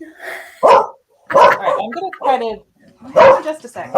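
Dogs bark at each other through a closed door indoors, with a few sharp barks breaking through and overlapping a person talking close by.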